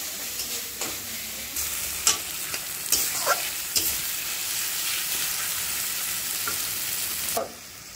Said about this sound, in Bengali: মশলাটা কিন্তু কষানো হয়ে গেছে, হালকা একটু জল দিয়ে মশলাটা ভালো মতো কষিয়ে নিতে হবে।